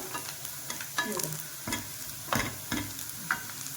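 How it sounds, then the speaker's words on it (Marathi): Onion browns in oil in a pan, with a low sizzle under quiet, irregular stirring scrapes and taps, heard close up with no voices. "आता असा ब्राऊन होईपर्यंत परतायचा आहे याला चांगला"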